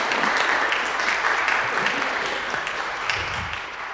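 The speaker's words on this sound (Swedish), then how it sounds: "men en applåd för dig" Applause from a congregation fills a cathedral during a Sunday high mass, a steady, dense wash of many hands clapping that stays even throughout and eases slightly at the end.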